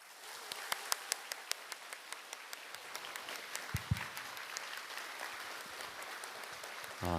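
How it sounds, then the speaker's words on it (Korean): An audience at a church evangelism rally claps steadily for several seconds, a warm wash of applause with a few sharper claps standing out early on. "우리 큰 박수로"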